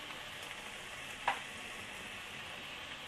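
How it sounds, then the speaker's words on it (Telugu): Vegetables for a foxtail millet veg biryani frying over a medium flame in a pan, a steady faint sizzle with one brief stirring clink, no talking. "2 నిమిషాలు మీడియం ఫ్లేమ్లో కలుపుతూ వేయించుకోవాలి"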